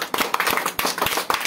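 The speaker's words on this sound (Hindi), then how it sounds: "जोरदार तालियां हो जाए" Brisk, loud clapping from a class of students cheering a fast reader, with uneven bursts of hands striking together at close range and no speech over it.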